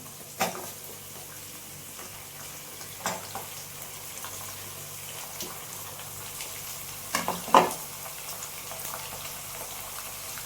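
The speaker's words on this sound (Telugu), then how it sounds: "ఇప్పుడు టమాటాలు వేసుకుంటున్నాను" Tomatoes hit a pan and begin to fry with a low, quiet sizzle, broken by a few sharp clatters of a spoon stirring, close by and with no talk.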